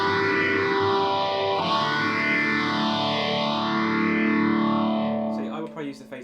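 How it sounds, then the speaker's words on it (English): An electric guitar played through a Yamaha THR10 amp on a high-gain distorted tone with a phaser, a sustained chord whose tone sweeps slowly up and down in a wavering cycle, loud and close, fading out near the end. "let's just go across to the phaser and see what that sounds like a minute on that sort of high gain sound"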